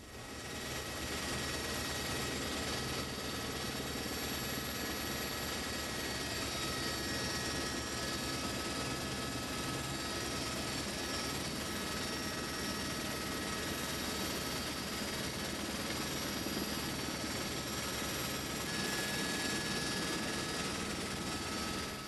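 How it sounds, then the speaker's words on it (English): A police helicopter flies overhead during a car chase near Oxford's Port Meadow, its steady rotor and engine roar holding at a constant moderate level throughout with no speech. "But they were never going to shake off the helicopter."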